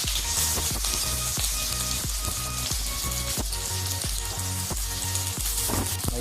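Onions fry in a hot pan for chicken biryani, a steady dense sizzle with crackling and periodic soft scraping knocks from stirring, close and continuous throughout.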